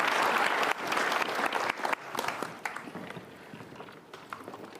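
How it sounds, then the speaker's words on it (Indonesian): A studio audience at a talk show applauds loudly and steadily, the clapping thinning gradually toward the end. "Berikan tepuk tangan sekali lagi."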